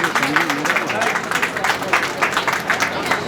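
Audience applause at the launch event for the Dangal TV show Kahani Pehle Pyar Ki, greeting Sanju: dense, steady clapping that fills the whole stretch, with voices and some cheering mixed in.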